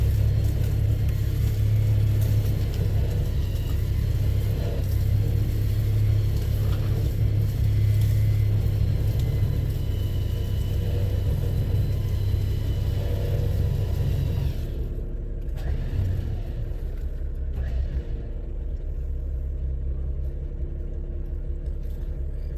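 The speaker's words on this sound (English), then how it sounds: "So we are pulling the tree, and the tree is pulling the Jeep a little." A Jeep engine labors with a deep, steady rumble while pulling a big dead tree, holding a loud continuous drone for most of the stretch before easing off somewhat near the end, close by with no voices.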